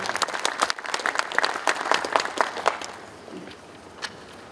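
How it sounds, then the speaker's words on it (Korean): At a Korean anniversary ceremony and concert, a hall audience gives lively applause to welcome a speaker. Crisp individual claps build, then taper off after a few seconds into quiet room tone with one stray clap. "여러분 박수로 환영해 주시기 바랍니다."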